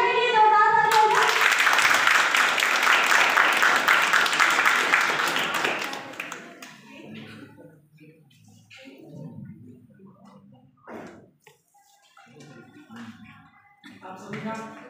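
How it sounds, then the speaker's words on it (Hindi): An audience at a university gathering for Ramanujan's birthday claps loudly for a singer for about five seconds. The applause then fades into quieter speech and scattered room noise. "भैया के लिए जोरदार तालियां होगा"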